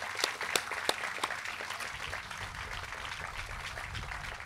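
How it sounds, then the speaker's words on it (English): A round of audience applause at the Garma Festival Yolngu Heroes Awards, dense crowd clapping with sharp individual claps standing out early, steady and moderately loud for several seconds, no talk over it. "Can we please give them another round of applause?"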